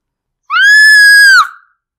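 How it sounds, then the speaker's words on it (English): A single loud, sustained high-pitched scream lasting about a second, close and piercing, starting abruptly and tailing off into silence. "I screamed at the top of my lungs"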